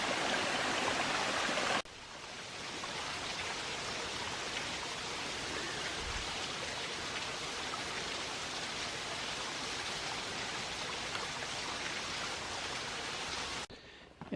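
A narrow creek on a nature preserve trail in Tennessee flows with a steady, broadband rushing wash, close and constant, with a brief louder burst at the start and no voices.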